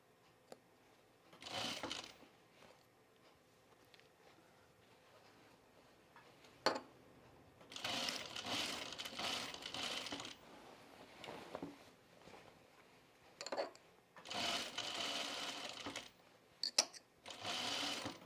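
A sewing machine stitches a dress sleeve in several bursts of whirring, with quiet pauses and small clicks of handling between runs.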